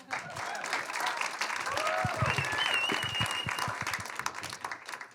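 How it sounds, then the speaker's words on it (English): Audience applause at a spoken word and arts festival event, steady sustained clapping from a crowd lasting several seconds with some voices and cheers mixed in. "Give him an applause."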